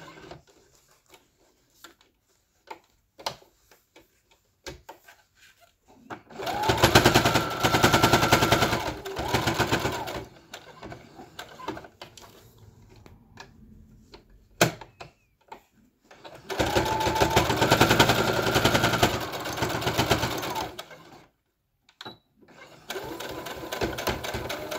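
A sewing machine stitches back and forth over elastic on a fabric face mask, running in two sustained loud bursts with a shorter third run at the end, separated by quiet handling clicks.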